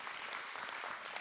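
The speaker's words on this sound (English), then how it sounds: "Yeah, a big round of applause." Steady applause from the audience at a board of education meeting, a dense even wash of clapping that stays faint and distant throughout, with no voices over it.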